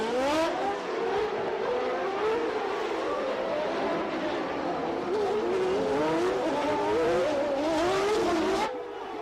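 1989 Formula 1 cars racing through the streets of Monaco, high-revving engines whining up and down through gear changes, loud and continuous with overlapping cars passing.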